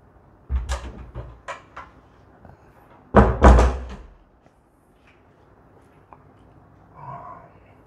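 A bedroom-to-bathroom door in a Kuala Lumpur apartment at Pavilion Ceylon Hills: a cluster of knocks and a latch click, then a louder thud as it swings shut, followed by quieter handling noises near the end.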